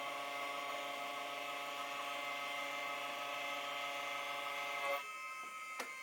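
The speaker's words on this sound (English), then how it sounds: "Here I open up the transformer by milling away the weld seams with a 2mm carbide end mill" Milling machine cutting weld seams on a transformer with a 2mm carbide end mill under a loosely clamped setup, a steady close whine with strong tonal hum, ending in a couple of sharp bursts.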